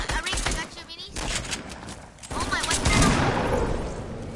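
Rapid dense gunfire rattles almost continuously during a Fortnite battle royale match, loud bursts and fusillades overlapping one another, with players' voices talking under the shooting.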